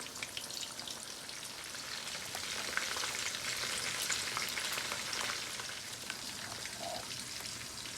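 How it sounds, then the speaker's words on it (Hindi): Chicken pieces frying in hot oil for a Pakistani-style fried chicken, giving a steady, close crackling sizzle with scattered pops that holds through the whole stretch, no voices. "जब तक चिकन फ्राई होता है"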